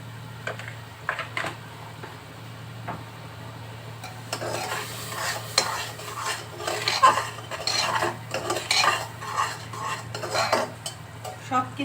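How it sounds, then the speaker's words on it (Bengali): Figs and shrimp are sautéed with spices such as coriander powder and turmeric in a pan: a spoon repeatedly scrapes and clinks against the metal in an irregular rhythm over a soft, steady sizzle, with no talking. "সবকিছু এখন একটু কষিয়ে নিব।"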